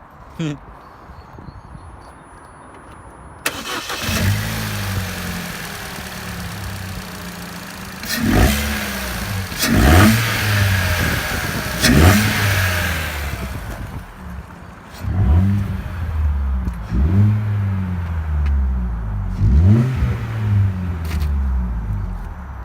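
A car fitted with a new exhaust and a K&N air filter revs repeatedly, engine rising and falling in several sharp bursts after a quiet start, loud and close, with the exhaust note dominant.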